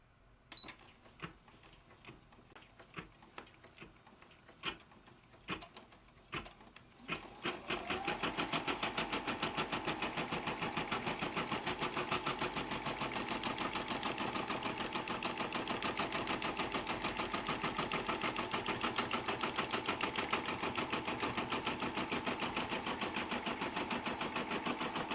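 A Brother PB6800 sewing and embroidery machine starts with a few sharp clicks and taps, then runs steadily, a loud, fast, even mechanical whirr and needle chatter that continues unbroken, with no one talking.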